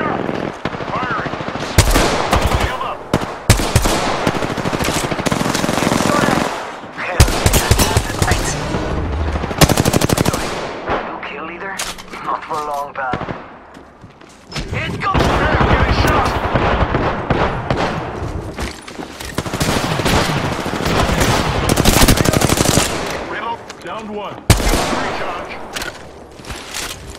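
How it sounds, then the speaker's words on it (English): Rapid automatic gunfire in the video game Apex Legends, loud dense bursts and fusillades of shots with brief pauses between them, under occasional in-game character callouts. "Getting shot at. I'm getting shot! Firing!"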